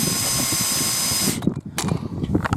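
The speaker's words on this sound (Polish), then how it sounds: "Ja używam tego wiertarki." A power drill winds down the stabiliser legs of a caravan with a steady close whir, then stops, leaving faint clicks and handling noises.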